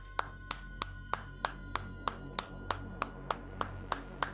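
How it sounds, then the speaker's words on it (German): One person claps their hands in a slow, even rhythm during a Hellseed gaming stream, about thirteen sharp, close claps spaced roughly a third of a second apart, with no talk over them. "Ich klatsche"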